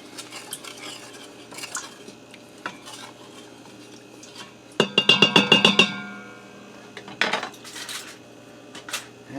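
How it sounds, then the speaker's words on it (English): A spoon stirs a beef mixture inside an Instant Pot, making scattered metallic scrapes and then a quick run of about seven sharp clinks against the pot near the middle, followed by a few more scraping strokes. "Give that a stir"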